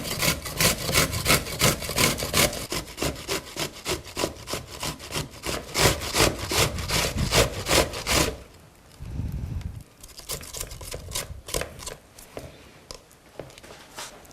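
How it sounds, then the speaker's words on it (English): An onion being grated by hand on a grater into egg, a loud, steady rhythm of rasping strokes for about eight seconds, then quieter, sparser scrapes. "I just have to use a grater and just grate the onion into my egg."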